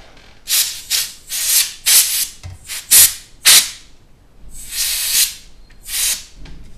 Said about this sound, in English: just going to go over it once more with some compressed air